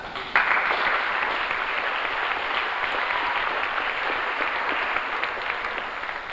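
Audience at a 1991 high school athletic banquet breaks into steady applause, a dense wash of many hands clapping together that starts suddenly and holds at an even, fairly loud level throughout, with no voices standing out.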